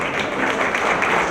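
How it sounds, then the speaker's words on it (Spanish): A dense, steady wash of applause from an audience at a public information and data protection panel event, a brief unbroken burst of many hands clapping at close range. "Les pediría por favor un aplauso en general"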